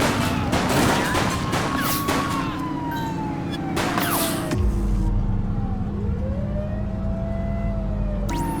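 Gunfire in the video game The Precinct: a rapid cluster of sharp shots crackles in the first half, mixed with a wailing police siren and a vehicle engine that carries on after the shooting stops.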